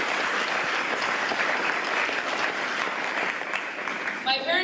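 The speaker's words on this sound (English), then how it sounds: "Let's give a round of applause to our parents." An awards gala audience applauds loudly and continuously, a thick steady roar of clapping, and a voice begins speaking over it just as it fades near the end.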